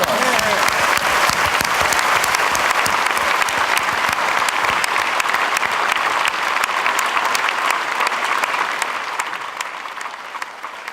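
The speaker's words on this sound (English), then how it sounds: "can we just have a round of applause for the cameramen?" A large audience at a Fauna & Flora International celebration with Sir David Attenborough gives the cameramen sustained, dense applause that fills the hall, then gradually thins and softens toward the end.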